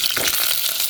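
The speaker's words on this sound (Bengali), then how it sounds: "আমি এই মশলাটা এখন তেলে দিয়ে দেবো। মশলা তেলে দিয়ে দিলাম," Whole spices, including black pepper and a piece of nutmeg, frying in hot oil in a pan while making a chicken and radish curry, giving a steady loud crackling sizzle with no talk.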